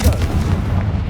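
A Confringo fire-blast spell in Hogwarts Legacy lands as a loud, heavy booming burst with a rumbling low roar that carries through the whole moment, without any talk.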